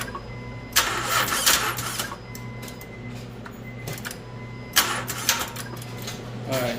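A Honda 3.5L engine with a weak starter motor is cranked from a booster pack, giving a labored, uneven grinding and whirring that surges in two bursts.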